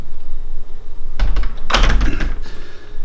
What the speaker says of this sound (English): just practicing opening and closing doors is a good fine motor practice